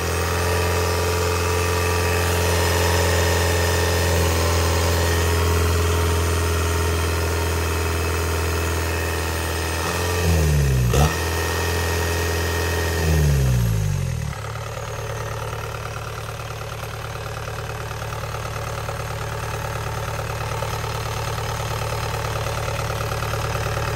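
Kubota DC70 V2403 diesel engine running on test: a loud, steady mechanical drone with strong low hum, swelling and sweeping upward in pitch twice as throttle is raised, then settling into a steadier, smoother run.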